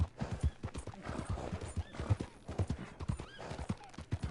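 Horse hooves clip-clop in a fast, pounding rhythm as the animal is ridden hard, close and loud, with a brief whinny and faint breathing noise mixed in.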